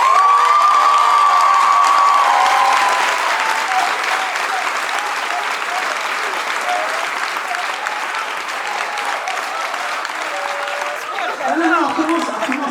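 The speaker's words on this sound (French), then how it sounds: "je voudrais qu'on applaudisse très très fort Léa Georgin" A crowd claps and cheers loudly at the end of a cabaret show, steady dense applause with shouts that holds for over ten seconds, a voice speaking over it near the end.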